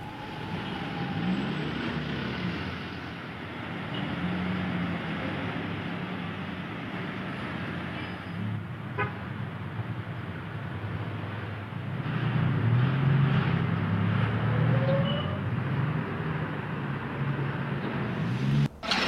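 Ordinary cars travel along a road, making a steady broadband rumble of traffic that swells louder toward the end as vehicles pass close by, with no voices.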